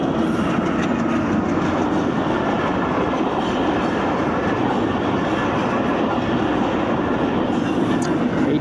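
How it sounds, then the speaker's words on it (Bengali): A local train rumbles past at close range in a loud, continuous roar of wheels and carriages with rattling clatter, steady throughout. "এইটা একটা লোকাল ট্রেন,"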